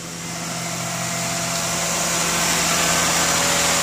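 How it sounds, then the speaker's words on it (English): A Lexus ES300 engine idling steadily just after a cold start, a constant, fairly loud hum and whir with no revving, nearby and alone. "since this is a cold start, I'm not gonna rev it"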